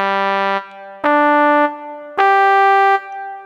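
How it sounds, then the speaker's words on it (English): A sampled trumpet plays three sustained notes, each rising in pitch and held for roughly half a second to a second. The tone is clear and brassy, with no one talking. "Trumpet."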